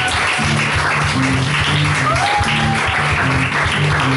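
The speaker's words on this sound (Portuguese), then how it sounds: "Glória ao Senhor com as suas palmas." Congregation clapping together during a Thanksgiving church service, a continuous dense applause over a sustained musical tone throughout.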